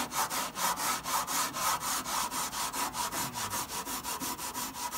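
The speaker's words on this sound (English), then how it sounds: "I'm gonna use that scuff pad. I've been trying it on this bar right here, and basically I'm gonna scuff it up" Scuff pad scrubbed back and forth across a metal bar of a truck bed during paint prep, a steady rhythmic rasping rub of about four strokes per second, close and moderately quiet, with no talking.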